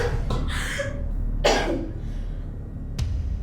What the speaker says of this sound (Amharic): ድንገተኛ ሳል ደግሞ ከመቼ ጀምሮ ነው ያለብሽ?